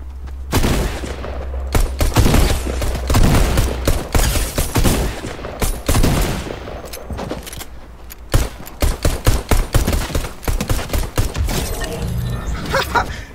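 Gunfire in a pistol-only round of a shooter video game, with repeated sharp shots and impacts scattered throughout, some in quick bursts near the end, over a busy game soundscape.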